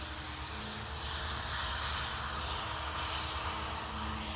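A SAB Goblin 570 6S three-blade RC helicopter flies nearby, a steady high-pitched rotor and motor whine with a gently swelling and fading pulse as it passes, continuous and alone without talk.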